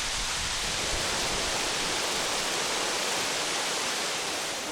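Clear water pours down a mountain waterfall along an old trading route in China, making a steady, dense rushing roar that stays unbroken and fairly loud throughout, with no voices.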